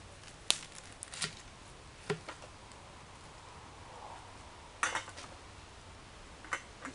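A knife chopping food with onions on a board, heard as a handful of sharp, isolated taps spread out with pauses between them, quiet and close, with no talking.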